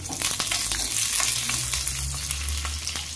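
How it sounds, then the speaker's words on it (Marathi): Whole spices sizzle in hot oil in a pan for rajma, a dense steady crackle and hiss with light stirring scrapes, close and continuous throughout. "तेल टाकून घेऊया। त्यानंतर हे खडे मसाले टाकून घ्यायचे आहे। त्याला परतून घेऊया व्यवस्थित।"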